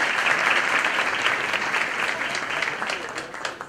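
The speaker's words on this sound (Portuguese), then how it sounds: "Salva de palmas." Audience at a liberty forum talk applauds a speaker coming onto the stage, steady clapping at moderate level with faint crowd murmur.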